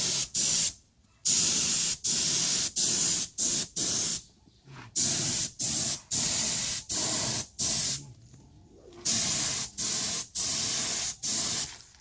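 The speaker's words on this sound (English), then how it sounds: "That's a low pressure, high volume spray gun." A low-pressure, high-volume spray gun fires in short, repeated hissing bursts with brief pauses between them while spraying a mag wheel repair, loud and close, about a dozen passes in quick rhythm.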